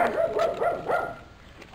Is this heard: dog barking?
yes